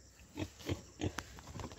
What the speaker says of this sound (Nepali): अल्छे भएको छ यो सुँगुर चाहिँ हेर्नु